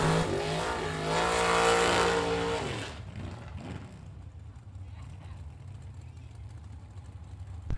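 Bracket-racing dragsters in Dragster Class competition launch with a loud, rising engine roar for about three seconds that cuts off abruptly, leaving a quieter distant rumble and crowd ambience.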